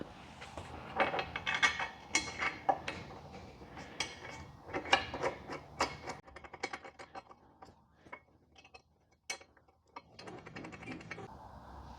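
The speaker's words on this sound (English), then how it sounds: "We're going to attach this with the 2 M6/16 socket head bolts." Close metallic clicks and rattles while socket head bolts are handled and fitted to a luggage rack mount on a Can-Am Ryker, an irregular run of small taps and scrapes with quiet gaps near the end.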